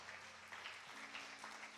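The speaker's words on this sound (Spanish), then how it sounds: "¿Cuántos dan un fuerte aplauso al Cristo de la gloria?" Church congregation applauding together, a soft, distant wash of clapping sustained for a couple of seconds with a faint hum underneath.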